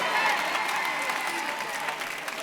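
A church congregation claps hands in quick, continuous applause that sounds moderately distant and soft, while a voice speaks over it.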